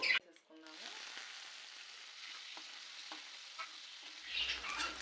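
Dried prawns, soaked and washed, frying lightly in oil in a pan, a soft continuous sizzle with a few stirring scrapes and a brighter crackle near the end.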